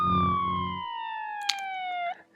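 A single electronic siren tone slides steadily downward in pitch for about two seconds, then cuts off abruptly.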